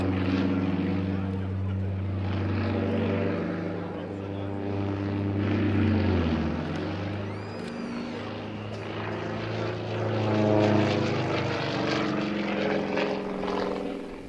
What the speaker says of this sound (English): Sukhoi not only builds very good fighter aircraft, they also build exceptional aerobatic airplanes, such as this Su-31.